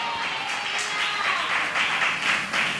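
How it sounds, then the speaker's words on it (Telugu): A church congregation clapping in praise of God during a Telugu Sunday service, a steady, loud wash of many hands applauding together, with rhythmic swells throughout. "చప్పట్లు కొట్టి దేవుని మహింపరుస్తారా?"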